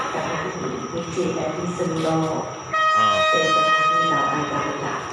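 Thai Express Train 107 rumbles into Chum Saeng station with a long, loud horn blast sounding midway, while people talk nearby over the steady mechanical noise.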